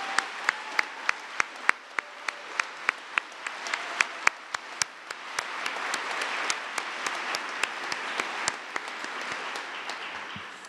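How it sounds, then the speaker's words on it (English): Applause for parents, coaches and teachers at a mock trial finals, starting as sparse distinct claps and swelling into steady, dense clapping from a moderately distant audience, with no talking. "Can you give another set of applause to the parents and the coaches and your teachers?"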